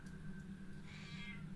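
A cat meows once, a close, clear cry over a steady low hum, heard alone without talk.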